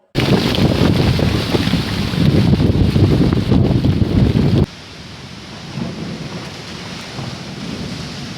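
Loud, dense roar of wind-driven rain in a thunderstorm with lightning, with gusty rumbling, cutting abruptly to a quieter steady wash of rain and wind.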